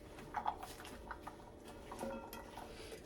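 A spatula scrapes and taps against a pan as radishes are tossed in oil, faint scattered clicks and knocks with a couple of sharper clinks near the start.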